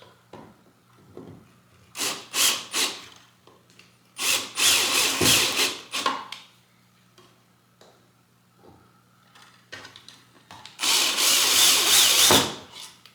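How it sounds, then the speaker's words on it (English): A power drill drives screws to tighten down the mounting of a heat detector replacing a smoke detector, sounding in several short close whirring bursts with longer runs near the middle and end, separated by quiet handling noises. "Now all we gotta do is just tighten down the screws."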